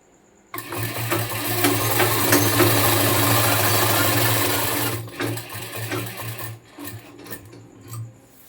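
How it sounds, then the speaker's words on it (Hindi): A sewing machine runs a long, steady lock stitch on a shirt, whirring loud and continuous for about four and a half seconds before slowing into short bursts and clicks. "आपको सिलाई रखना है, और लपकी सिलाई से इसे स्टिच कर देना है।"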